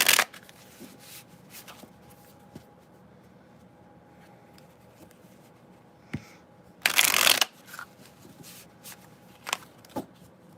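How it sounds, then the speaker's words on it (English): Tarot cards being riffled and shuffled in quick bursts, with a long, loud stretch of fast shuffling midway and a few sharp flicks near the end. "I'm shuffling fast."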